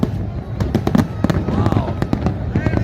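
New Year's Eve fireworks over Leme Beach in Rio de Janeiro, a dense barrage of sharp bangs and crackling bursts in quick irregular succession, loud and close, with distant whistles and crowd noise underneath.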